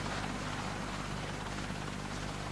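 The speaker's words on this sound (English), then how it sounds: "the helicopters flew on to the grounds of Galston General Hospital in Great Yarmouth" A helicopter's steady rotor thrum and engine roar fill the air as it flies onto hospital grounds, constant and fairly loud with no voices.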